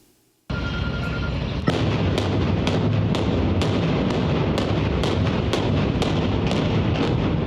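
A quick series of sharp, heavy blasts demolishing a house bursts out in a regular run over a dense, loud rumble, close by and powerful.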